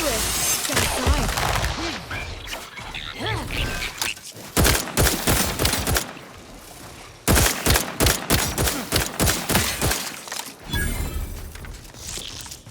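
Bursts of rapid gunfire in The Outer Worlds 2, loud and close, come in dense volleys separated by short lulls, with a voice talking in between.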